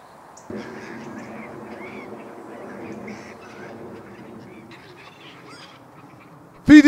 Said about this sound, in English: Feeding the birds.